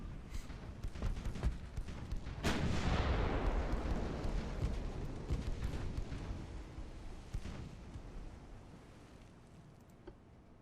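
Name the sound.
naval guns firing in Ultimate Admiral: Dreadnoughts video game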